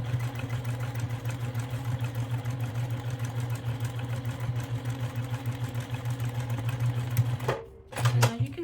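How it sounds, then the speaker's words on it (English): Sewing machine stitching the side of a handmade luxury phone case, a steady close mechanical hum running for several seconds before a brief stop and a short restart. "So now I'm going to stitch the other side."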